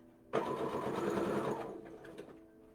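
A cheap, years-old sewing machine laboring as it stitches over a double seam: a sudden loud whirring run of about a second and a half that strains, then fades back to quiet motor hum.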